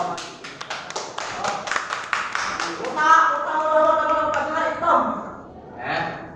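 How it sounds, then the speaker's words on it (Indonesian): A classroom of students applauds for the first presenting group, a dense patter of many hands clapping for about three seconds that fades under a teacher's voice and other talk. "Kelompok 1 maju, kita berikan tepuk tangan dulu."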